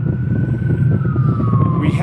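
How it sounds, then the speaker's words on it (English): An ambulance siren on a city street passes close and loud, its tone sliding steadily downward as it goes by, with a low rumble of traffic underneath. "maybe I should let this ambulance pass."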